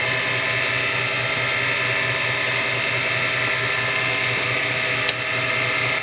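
A wood lathe hums and whirs steadily as a tool hollows out a rosewood bowl, a close, continuous grinding drone with a faint repeating mechanical pulse.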